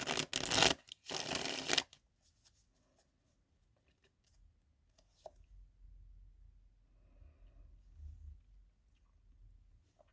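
Tarot cards shuffled in the hands in a quick, loud riffling burst lasting about two seconds, followed by quieter soft handling and a faint card being drawn, with no speech.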